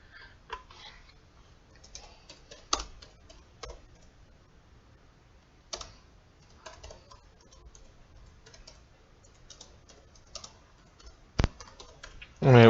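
Sparse, irregular keystrokes on a computer keyboard, with soft taps and a few sharper clicks scattered across a quiet room, and a louder clatter at the very end.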